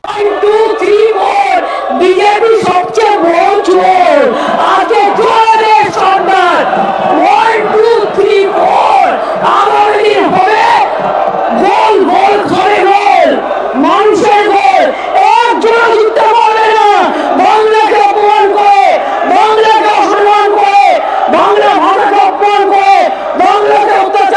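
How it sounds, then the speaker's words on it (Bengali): BJP legislators chant slogans in unison inside the West Bengal legislative assembly, a loud, dense crowd of voices with a steady rhythmic pulse that keeps going for the whole stretch. "সেই সময় বিজেপি বিধায়করা স্লোগান দিতে শুরু করেন"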